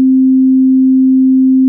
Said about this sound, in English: It's going to create a perfect sine wave shape on there.